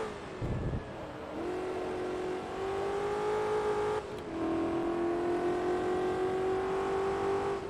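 Shelby Cobra race car in Forza Motorsport 2, its engine revving up through gears in two long climbing pulls with a brief break between, loud and close with a throaty whine and no talk.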